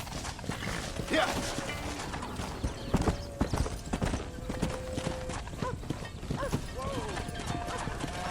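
Horse hooves clip-clop in the Red Dead Redemption video game, several horses trotting in a loose rhythm with occasional whinnies, under shouted voices urging the horses on.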